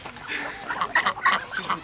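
Ducks being fed at Lake Beletsi give several short, nasal quacks in quick succession, close by, with a faint murmur of voices underneath.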